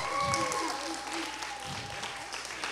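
An indoor audience at a live gaming show applauds, a dense, steady wash of clapping that carries on throughout, with a person speaking over it.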